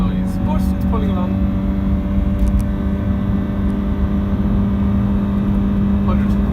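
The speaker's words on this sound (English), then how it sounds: "it is a CVT gearbox. They are noisy, and that's just the way they are." A 2010 Honda Civic Hybrid with a CVT gearbox drones loudly and steadily from inside the cabin as it accelerates in S mode, the engine held at a constant high hum, with someone talking over it.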